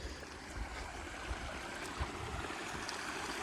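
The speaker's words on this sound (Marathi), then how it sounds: "वाट्यानं पाणी चालू आहे" Water flows steadily along a village irrigation channel outdoors, a faint continuous burbling rush with light wind-like noise and no voices.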